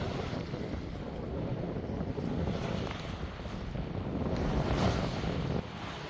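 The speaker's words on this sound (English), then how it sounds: "you find interesting things to look at, like waves, which can be hypnotic" West African Atlantic waves wash steadily around a sailing boat at night, a loud continuous surge of surf and rushing water mixed with heavy wind buffeting the microphone.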